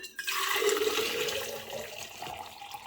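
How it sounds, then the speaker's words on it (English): Water pours into a 40 oz Stanley Quencher tumbler, a close, continuous splashing rush with a rising gurgle that tapers off as the cup fills, with no voices. "So in goes the water."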